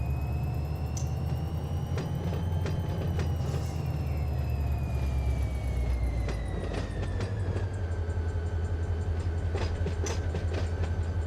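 A locomotive and train cars rolling through a rail yard in the simulator Run 8, a steady loud rumble with rhythmic wheel clicks and a droning engine tone throughout.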